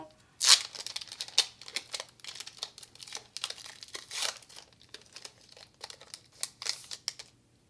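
A Pokémon card booster pack from the Brilliant Legends set is torn and crinkled open, with a loud rip near the start followed by repeated crisp crinkling and rustling of foil wrapper, close up with no talk.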